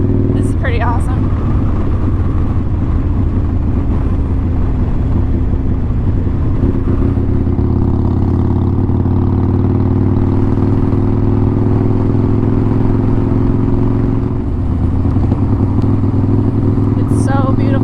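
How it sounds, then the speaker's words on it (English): A motorcycle rides on steadily with a loud, sustained engine drone and wind rumble, the pitch holding mostly even with a slight change partway through, heard close as if from the rider. "It's a perfect place to ride a motorcycle."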